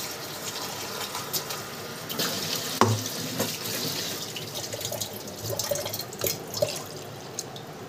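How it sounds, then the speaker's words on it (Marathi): Tap water runs steadily into a sink while a mixer jar is rinsed out, with splashing and dripping close by and a few clinks of the jar. "ते मिक्सरचं भांडं धुवून थोडंसं टाकू पाणी."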